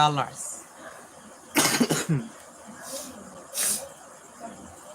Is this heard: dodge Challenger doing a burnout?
no